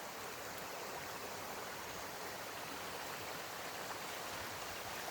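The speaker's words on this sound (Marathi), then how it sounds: "फक्त पाण्याचाच आवाज सर्वत्र येत आहे आणि सर्वत्र फक्त जलमयच दिसत आहे" Floodwater after heavy rain rushes and pours across farmland in a steady, loud broadband roar with no pauses or voices.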